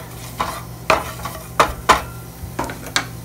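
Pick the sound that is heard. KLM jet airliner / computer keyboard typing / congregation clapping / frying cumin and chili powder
frying cumin and chili powder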